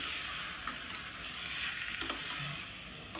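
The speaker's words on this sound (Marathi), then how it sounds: "मटण टाकल्यानंतर हलवून घ्यायचं आहे चांगलं." Cleaned mutton fries over full heat in a pan, making a dense, close sizzle. A few clinks and scrapes from stirring break through, and no voices are heard.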